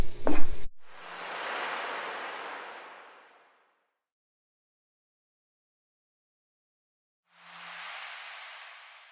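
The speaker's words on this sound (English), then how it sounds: "Fry the garlic nicely so it won't have the raw smell." Garlic frying in a pan gives a soft hiss after a brief clatter, fading out into silence before a second burst of sizzling starts up near the end.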